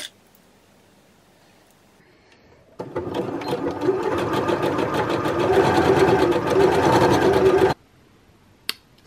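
A sewing machine zigzag-stitches sparkly dress fabric in one steady, fast run of about five seconds, with quiet stretches before and after it.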